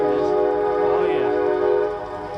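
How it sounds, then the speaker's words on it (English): A train rumbles across a bridge over the Catawba River, with a loud, sustained horn blast over a steady rolling drone and no one talking. "That's a train crossing the Catawba River."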